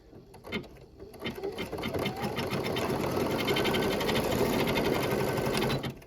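Embroidery machine stitching a quilting design on a hoop project, starting with a few clicks and then a loud, steady rapid needle chatter that runs close and continuous to the end.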